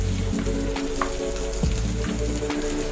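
Onion frying in a pan with spices, giving a dense, continuous sizzle and crackle close by, with no voices.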